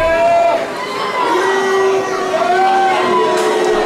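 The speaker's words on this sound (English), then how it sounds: "And you hear the fans booing here." Wrestling fans at an independent SWW show boo a disliked wrestler, a sustained, droning crowd jeer with rising and falling voiced tones, fairly loud and continuous throughout.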